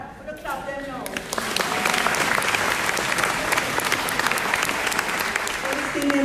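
Children clap together at a festival performance, breaking into a loud, dense burst of clapping after a brief opening of speech, with voices audible within the applause.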